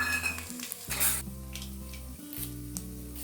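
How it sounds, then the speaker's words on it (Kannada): Urad dal, ginger and curry leaves fry in oil with a bright crackling sizzle, while a spoon clinks and scrapes against the pan as they are stirred, close up. "ಇವನ್ನೆಲ್ಲ ಎಣ್ಣೆಯಲ್ಲಿ ಚೆನ್ನಾಗಿ ಹುರ್ಕೋಬೇಕು"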